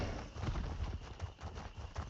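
Horse hooves clip-clopping at a steady trot in a video game set in Shadowfen, quiet and rhythmic, heard alone.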